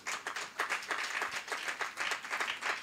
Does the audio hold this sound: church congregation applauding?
yes